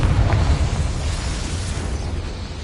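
A Confringo blasting spell in Hogwarts Legacy detonates as one loud, low boom at the start and then fades into a long rumbling tail.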